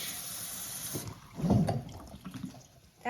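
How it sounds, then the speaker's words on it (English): A mini toilet bowl flushing: a short, faint gush and gurgle of water that swells briefly midway, then trickles off, heard close with no voices. "And here is a bowl flush."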